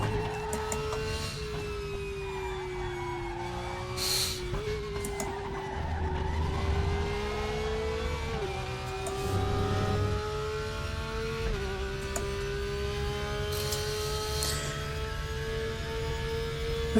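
A Porsche race car in the sim-racing game Raceroom drones with a loud, sustained engine note that dips and rises through gear changes and downshifts, with occasional tire scrub and squeal through corners.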